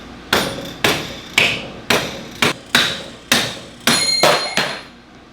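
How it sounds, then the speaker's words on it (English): Repeated sharp hammer strikes drive a rod out of a Ducati Monster motorcycle, about ten blows at an irregular, steady pace, loud and close, with ringing high overtones and no talking. "I'm pushing the rod out through using the new rod and just hammering it in the"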